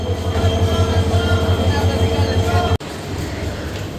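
A Parjotak Express train engine rumbles loudly and steadily with a low droning hum at Chattogram railway station, then the sound cuts off abruptly and continues as a rougher, noisier rumble.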